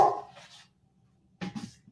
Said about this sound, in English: Oh, you hear the dog?